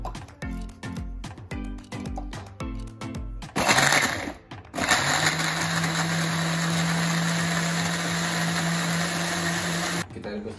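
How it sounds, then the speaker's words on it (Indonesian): An electric blender grinds a spice paste of galangal, ginger, turmeric and chili in a loud, steady whir that runs for several seconds after a short burst of clatter and rhythmic knocking. "Haluskan dulu bumbu yang dihaluskan."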